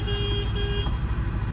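Car horn blaring in two sustained tonal blasts from another vehicle behind a truck, loud over steady engine and road rumble.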